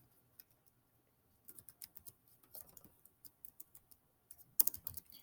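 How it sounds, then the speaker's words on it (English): Someone types on a computer keyboard, giving sparse, hesitant key clicks that come in short bursts with gaps, then a brief louder cluster near the end, close and quiet, with no talking. "I cannot type today for some reason"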